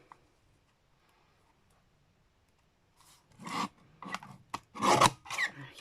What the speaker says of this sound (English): Get my trimmer and cut this down.